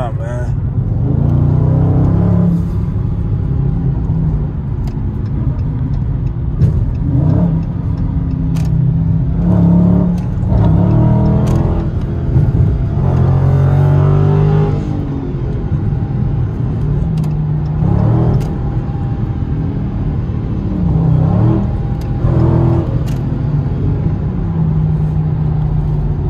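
A Dodge Charger Scat Pack in track mode pulls through traffic, its engine droning and whining as it accelerates, steady and close throughout, with people talking over it.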